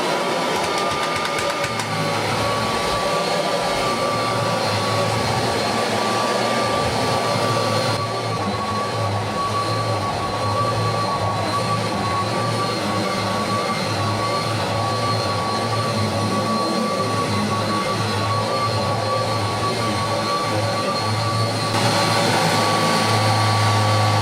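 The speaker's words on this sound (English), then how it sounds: "just a quick vacuum" A steady, loud motor whine with a constant droning hum runs throughout as a Kirby Legend 2 vacuum cleaner operates close by without pause.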